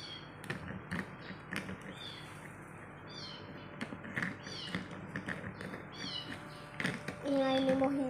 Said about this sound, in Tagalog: yung meowing pusa lang namin yan